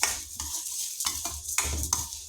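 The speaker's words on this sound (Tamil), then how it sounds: "நல்லா பொன்னிறமாக வறுத்து எடுத்துக்கணும் அந்த பருப்பு வாசனையோ நெய் வாசனையோ சேர்ந்து நல்லா மலர்ந்து வர மாதிரி வரும் அது வரைக்கும் நம்ம கைவிடாமல் கிண்டிகிட்டே இருக்கணும்" Moong dal roasting in ghee is stirred steadily in a pan, giving repeated scraping sweeps over a soft sizzle, close and clear with no talk.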